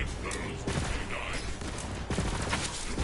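Rapid gunfire with radiation damage in the video game Borderlands 3, a dense, continuous clatter of shots and impacts in a busy game mix, with someone talking over it.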